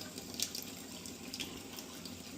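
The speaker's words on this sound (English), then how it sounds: "I'm going to turn on the water here, wet my hands" A kitchen faucet runs while hands are wet for mixing raisin oatmeal balls, a soft, steady stream with a few brief splashy bursts, no talking.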